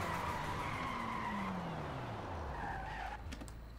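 Tyres of an Audi TT RS with its stock 365 engine skid loudly during a hard brake test, a continuous squeal as the engine note sweeps down and fades over about four seconds.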